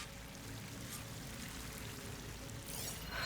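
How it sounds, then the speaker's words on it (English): A waterfall in the video game Horizon Forbidden West pours steadily, a faint continuous rushing wash of water heard from a distance, with no voices. "That waterfall must be coming from somewhere."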